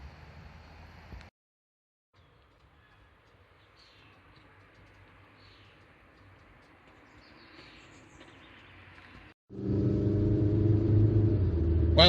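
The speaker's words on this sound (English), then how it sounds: "a little drive of the first generation Kia Rio with my rattly camera mount" A 2000 Kia Rio 1.5 LS automatic, first generation, drives along with steady low engine and road rumble, a rattly camera mount buzzing faintly inside the cabin, then a louder stretch of engine and road noise near the end.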